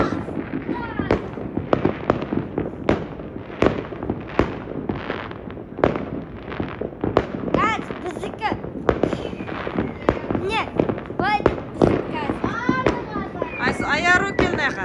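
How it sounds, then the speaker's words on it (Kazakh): New Year fireworks go off outdoors in a rapid series of sharp pops, bangs and crackles, some close and some farther off, while people and children talk throughout. "Жаңа жылдарыңызбен мен далада салюттер атып жатырмыз."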